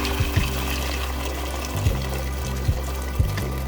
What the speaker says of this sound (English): Fill up the pot with boiling water.